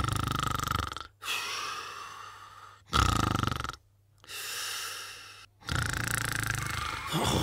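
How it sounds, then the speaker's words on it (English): A cartoon wolf in an animated story snores loudly in long, rhythmic rasping breaths, four drawn-out snores separated by brief silences, voiced by a performer. "The wolf's loud snoring echoed throughout the forest."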